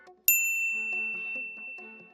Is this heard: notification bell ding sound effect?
yes